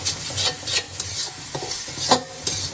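Onions are stirred and sautéed in a pan for a home-cooked Bengali dish, giving a steady scraping and rubbing of the spatula against the pan over a soft sizzle, close and fairly loud, with no speech.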